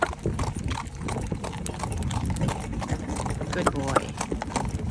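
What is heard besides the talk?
horse trotting hooves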